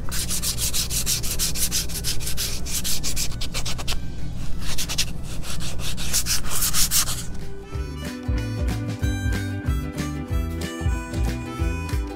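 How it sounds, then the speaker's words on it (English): Sandpaper rubs quickly back and forth along the painted edges of a wooden pumpkin in close, steady scratchy strokes, followed by soft background music. "you can just take your sandpaper and sand that off"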